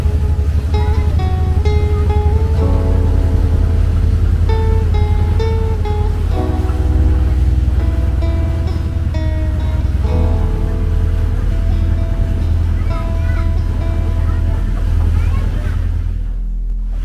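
Inside a river water bus boat on the Barito River, a steady loud engine drone and rumble fills the cabin, with music playing over it throughout.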